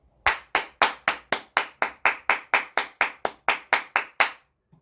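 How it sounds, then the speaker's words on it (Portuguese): A crowd applauds a poem recital about childhood, the clapping arriving as a steady series of about sixteen sharp, evenly spaced bursts, loud and close, with no voices over it. "e todo mundo aplaudiu"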